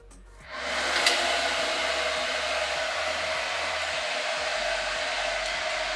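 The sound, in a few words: hair dryer blowing on hair roots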